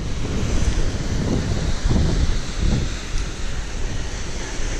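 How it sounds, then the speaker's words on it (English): Waves crash on the rugged coast at Marshall's Beach near the Golden Gate Bridge, a loud continuous roar of surf with rolling swells and heavy wind buffeting the microphone. "just look at the waves crashing out of the coast like that."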